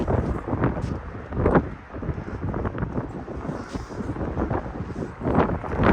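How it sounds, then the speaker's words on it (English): Gusty wind roars and thumps against the microphone continuously outdoors in snowy weather, with low rumbling swells and no other clear sounds. "Okay, so of course it's extremely windy here"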